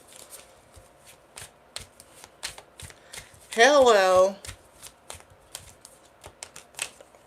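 Tarot cards are shuffled with crisp, repeated riffling clicks throughout, broken briefly midway by a short spoken greeting.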